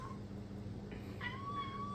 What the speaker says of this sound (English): That's my best friend's cat chirping at the birds.